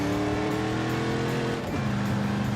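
A Chevrolet Corvette sports car's engine drones loudly and steadily while driving, with a brief dip and shift in pitch partway through before settling again, close and without talk.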